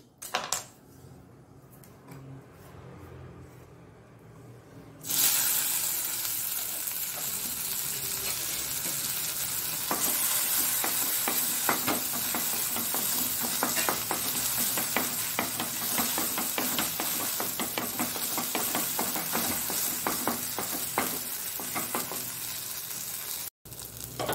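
Finely chopped kasuri methi leaves fry in hot oil for a Mangalore-style dosa. A loud, steady sizzle rises suddenly after a quiet start and crackles continuously up close, with occasional light scraping from stirring.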